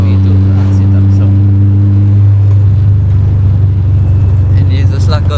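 A turbocharged Honda B20 car engine and exhaust drone steadily inside the cabin, a loud, deep, constant hum that rises slightly, while a person talks over it.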